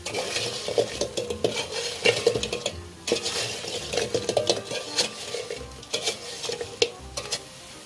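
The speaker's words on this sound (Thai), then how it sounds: "คนไปเรื่อยๆครับเริ่มขาวเป็นน้ำตาลแล้วนะครับ" A utensil stirs Thai fried egg snacks in a frying pan, with continuous sizzling and repeated scraping and clinking against the pan, close and busy, with no talking.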